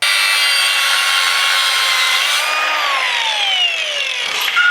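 A power drill bores out a hole in the metal sump of a turbocharged BA Ford Falcon, a loud, steady high-pitched whine and grind with shifting tone as the bit bites, close up and continuous with no talk.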